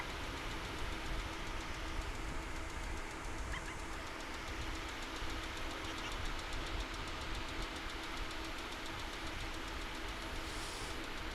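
A Boeing 747 airliner turns on the ground at DFW International Airport, heard as a faint, steady, distant engine rumble and whine that stays even throughout.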